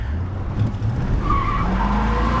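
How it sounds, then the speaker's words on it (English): A 1969 Ford Ranchero engine with a Holley carburetor pulls hard under load, its tone rising as the carburetor secondaries open, with a steady loud roar throughout. "you can hear the secondaries opening"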